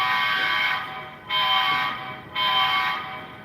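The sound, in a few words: horn of HO scale model locomotive 8104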